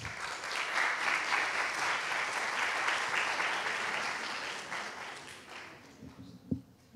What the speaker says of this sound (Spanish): Démosle, por favor, un aplauso de bienvenida.